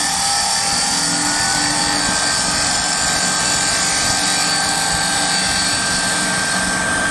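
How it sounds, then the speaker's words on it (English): A woodturning lathe spins steadily as a tool scrapes the turning wood, a continuous dense whirring hiss held at constant loudness for several seconds without pause. "We can tilt the tool downwards as well to get more of a scraping action from underneath."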